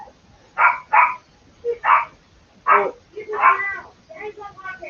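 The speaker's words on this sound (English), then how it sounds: "Oh, so you got a yipping dog." A small dog yips and barks in short bursts, several sharp yaps in a row, fairly close and clear against a quiet background.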